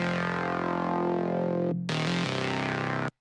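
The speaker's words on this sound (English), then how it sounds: "So without distortion, we get this." Serum saw-wave bass synth heard clean without distortion: a steady, bright buzzing bass tone that changes notes around the two-second mark, then cuts off abruptly, with no voices over it.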